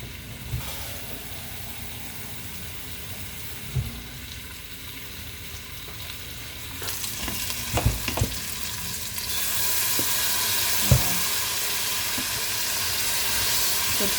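Steady sizzling and frying hiss from chicken sticking in a pan, with occasional scrapes and clinks of stirring; the hiss grows louder and brighter partway through.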